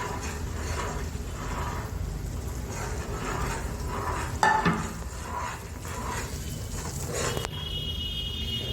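Mysore pak mixture in a pan is stirred steadily, with continuous rhythmic scraping and a low bubbling sizzle, a brief clatter of a utensil midway, loud and close throughout, with no talking.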